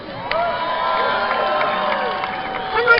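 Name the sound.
crowd cheering for jousting at Renaissance festival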